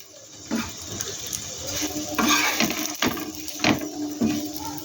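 Mini mughlai frying in hot oil in a home kitchen, a steady close sizzle with occasional louder crackling bursts and clinks of a utensil, no talking over it.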